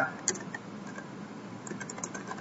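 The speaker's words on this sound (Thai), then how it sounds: "ก็ลองพิมพ์คำว่า" Quick, faint keystrokes tapping on a computer keyboard at close range, a soft irregular patter of clicks with no voices.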